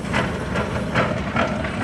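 Antique steam traction engine running in a parade of steam engines and old tractors in Berryville, Virginia, with rhythmic puffing chuffs of exhaust repeating about every half second over a loud, steady hiss.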